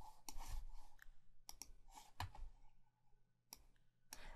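Computer mouse clicks during folder and file work in a software tutorial: a handful of sharp, separate clicks, some close together, over quiet room hiss.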